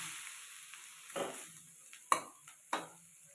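A pearl millet dosa cooks on a pan after being flipped, giving a faint sizzle broken by a few sharp spatula scrapes and taps.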